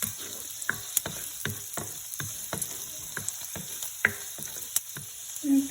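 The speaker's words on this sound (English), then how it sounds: "I am going to saute this for about a minute. I'm going to put my heat down to medium" Shrimp sautéing in a pan over medium heat, a quiet steady sizzle broken by repeated sharp clicks and scrapes of a utensil against the pan.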